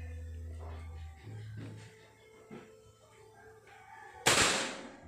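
A PCP air rifle fires a single sharp shot near the end, a loud broadband crack after a stretch of quiet low hum and faint background noise.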